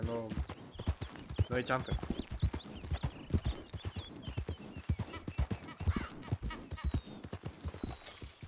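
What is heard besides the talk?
horse hooves galloping in video game RedM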